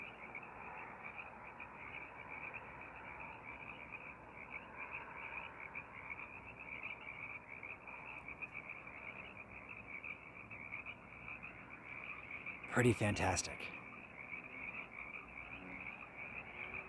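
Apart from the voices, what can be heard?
Sierran tree frogs croaking in a chorus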